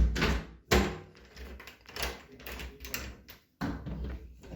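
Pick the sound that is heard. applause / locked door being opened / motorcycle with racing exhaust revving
locked door being opened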